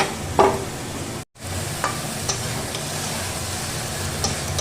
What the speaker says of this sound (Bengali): এবার আমি এর মধ্যে দিয়ে দেব ভেজে রাখা আলু আর কাঁকড়াও দিয়ে ভালো করে এটাকে কষিয়ে নেব